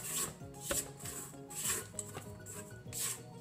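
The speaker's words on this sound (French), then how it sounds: "là, je mélange mon mix sec" Dry flour mix of rice, sorghum and oat flour with cinnamon, psyllium, baking soda and chocolate chips is stirred in a bowl, giving soft rhythmic scraping and rubbing strokes, close and quiet, with no talk.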